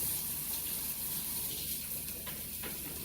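Tap water runs steadily into a kitchen sink while hands are washed during home cooking, a continuous broadband splashing rush with a few brief clinks, close and fairly loud, without talk.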